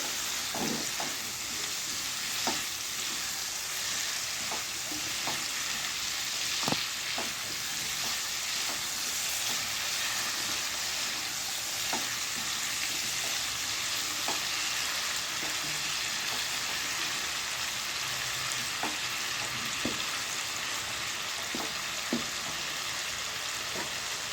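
Potato and cauliflower pieces frying in a pan for a rohu fish curry, a steady close sizzle broken by occasional spoon stirs and light clicks throughout.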